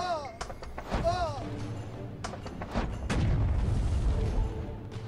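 Explosive barrel thrown in the Holy TD tower defense game: a few sharp game sound effects early, then a heavier booming burst and rumbling impacts, with talk over the top.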